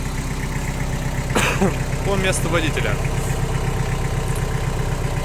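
A Mitsubishi MT305 tractor with a front loader idles steadily, a low, even engine rumble that runs throughout beneath someone talking.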